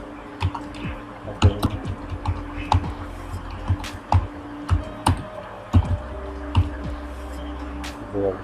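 Keys clatter in irregular bursts of close, crisp clicks as someone types on a computer keyboard, entering Bangla text in MS Word, with a steady hum underneath and no talking.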